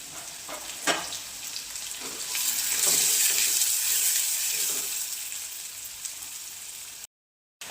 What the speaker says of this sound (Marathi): आपण जो कांदा बारीक कट केला तो टाकून घ्यायचा आता छान असं लालसर उतरून आपल्याला कांदा परतून घ्यायचा आहे